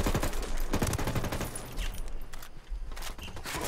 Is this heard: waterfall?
no